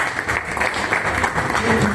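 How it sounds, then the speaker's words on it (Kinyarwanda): An audience at a gathering in Rwanda gives a brief, dense round of applause, many hands clapping together in a steady, full patter for about two seconds. "ndagira ngo rwose mukemere amashyi"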